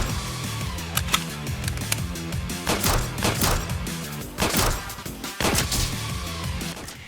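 Rapid gunfire from a Roblox zombie shooter, repeated shots cracking over a busy game soundtrack with occasional heavier bursts, loud and close throughout.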